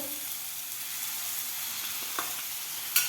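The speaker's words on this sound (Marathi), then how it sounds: "इथे घालायचं आहे आता बारीक चिरलेला टोमॅटो" Finely chopped tomato fries in hot oil with red chili powder, a dense, even sizzle close by, with a couple of soft stirring scrapes near the end.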